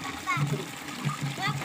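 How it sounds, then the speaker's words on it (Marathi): Water splashes into a vessel at a village tap, a short, close gushing spatter heard under a child's and an adult's voices talking. "हे बघा अशा पद्धतीने पाणी भरल्या जातं नळावर."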